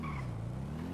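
A person's voice imitating a race car, a single short, buzzing engine-like whine that drops slightly in pitch over about a second.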